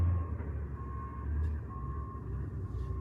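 A large mining dump truck at a deep open-pit gold mine sounds steady, evenly spaced reversing beeps over a low engine rumble, heard faintly from a distance, with no talk.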